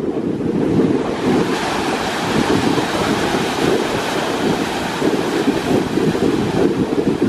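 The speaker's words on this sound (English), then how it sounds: "The waves out here are just huge and amazing." Large, violent ocean surf crashes and churns continuously below a cliffside gondola crossing at Timang Beach, a loud, dense roar of breaking waves mixed with strong wind buffeting the microphone.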